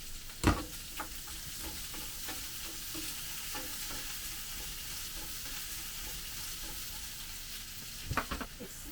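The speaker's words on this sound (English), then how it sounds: "when the onion is caramelized, you put the prawns" Prawns sizzle in a pan with caramelized onion inside a motorhome kitchen, a constant close frying hiss broken by occasional utensil scrapes and taps, a louder clatter near the start and end.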